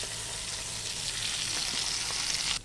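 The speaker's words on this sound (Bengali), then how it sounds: "এখানে মাছ ভাজা চলছে" Bhola fish frying in hot oil, a dense, steady sizzle that stays close and even throughout with no voices.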